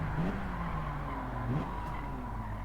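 A car braking in the racing game Gran Turismo, played on a controller, with a steady engine drone and rising and falling tyre squeal over about three seconds, close and moderately loud with no talking.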